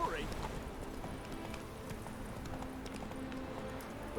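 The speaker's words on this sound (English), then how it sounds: "Is it because I'm flying through here on my horse?" Clip-clop of the horse Roach galloping in The Witcher 3: Wild Hunt, steady hoofbeats at a fast pace, fairly faint under a constant wash of ambient game sound.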